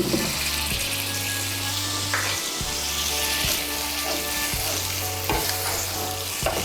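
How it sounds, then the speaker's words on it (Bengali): Close, steady sizzling and stirring of soybean masala frying in a pan as water is added from rinsed spice bowls, with splashy bursts and scraping strokes repeating throughout. "আমি মশলার বাটিগুলো ধুয়ে এর মধ্যে 1 কাপ জল দিচ্ছি"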